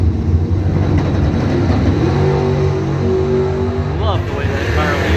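Loud race car engine roaring at a Chevrolet Bowtie Challenge drag racing event, a steady heavy rumble throughout with crowd and announcer noise mixed in.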